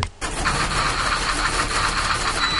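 A Ferrari sports car engine bursts in after a brief hush and holds a loud, steady, close roar to the end.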